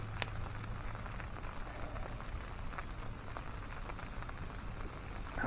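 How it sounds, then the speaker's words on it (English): At a wet woodland camp, rain falls on a tarp overhead as a quiet, even patter of many small drops, a soft steady hiss with scattered sharper taps and no voices. "I love the sound of rain hitting the tarp."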